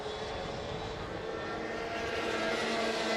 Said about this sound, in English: He will be hearing the Senior Max engine in his ears